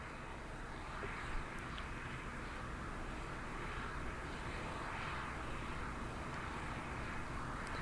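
A modified Boeing 747 shuttle carrier aircraft with four Pratt & Whitney gas turbine engines gives a steady, broad jet roar, constant and fairly distant throughout with no talk.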